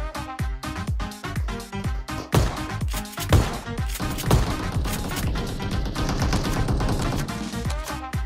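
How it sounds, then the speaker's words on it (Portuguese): Shotgun fire and gunshots in the battle royale game PUBG Mobile, a dense run of sharp, loud blasts and rapid shots over layered game sound with no talk. "Já vai o primeiro de shotgun"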